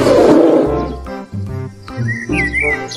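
A toy bear lets out a loud electronic roar that opens with a harsh growl, breaks into several shorter grunts, and ends with bird-like chirps mixed in, close and heard on its own.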